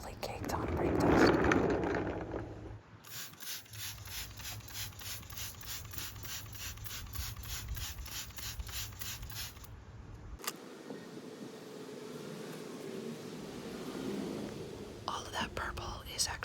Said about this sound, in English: First up, we're gonna start off by removing all of the heavily caked on brake dust.